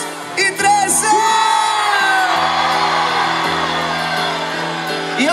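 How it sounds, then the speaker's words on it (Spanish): Concert crowd at an orchestra show in O Burgo, Culleredo, A Coruña, letting out a big collective shout on cue after a count of three, a loud sustained roar of whoops and yells that rises sharply and holds for several seconds. "A la de tres, el grito más grande."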